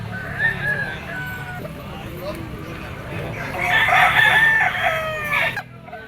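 A one-year-old gold straight-comb, yellow-legged rooster crows in an outdoor grotto setting, one long crow rising over the background, with quieter clucking and faint murmuring around it.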